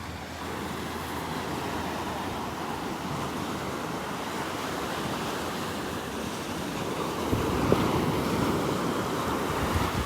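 Ocean surf washing onto the beach at Delnor-Wiggins Pass, Florida, a steady broad roar of waves with wind buffeting the microphone, swelling slightly louder near the end, with no talking.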